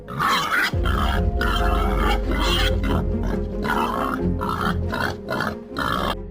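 Wild boars caught in a trap on a farm grunt repeatedly and close by in uneven bursts, with brief pauses between clusters of rough snorts.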